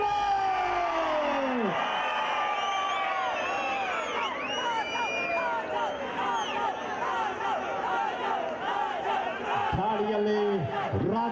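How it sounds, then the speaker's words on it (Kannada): A dense crowd of spectators at a Kennalu Pro Kabaddi match in the Kadamba Cup cheers and whoops continuously, with raised shouting voices rising over a steady roar throughout. "ಪ್ರೇಕ್ಷಕರೇ ಬರಲಿ ಒಂದು ಜೋರ ಚಪ್ಪಾಳೆ."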